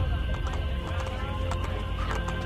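Steady clip-clop of horse hooves approaching in the video game Assassin's Creed Brotherhood over constant background noise, with a few faint whinny-like tones rising through it.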